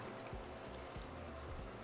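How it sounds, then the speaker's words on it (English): Water poured from a blender cup into a pot of homemade salsa for costillas rancheras makes a soft, steady trickle that stays faint and close throughout, with no voices. "Add a little bit more water to get everything from the blender cup"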